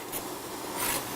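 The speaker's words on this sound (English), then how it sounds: "You hear that sizzle?" Onions and garlic sizzle gently in a pot over low heat, a soft continuous hiss and crackle that swells slightly near the end, quiet and close with no voices.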